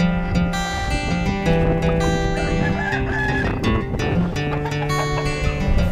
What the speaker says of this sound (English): This here is a hen that's going broody, meaning she's preparing to set her own eggs